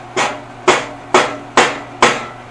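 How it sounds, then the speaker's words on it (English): A hammer strikes the front cross member of a Volvo Amazon five times at a steady pace, each hit a sharp, loud, close metallic knock with a short ringing tail. "I'm going to go over here and just tap it a little bit forward."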